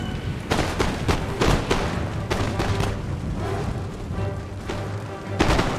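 Musket volleys in the strategy game Empire: Total War, a steady stream of overlapping distant and mid-range shots and booming reports over a rumbling battle bed, with occasional sharper cracks.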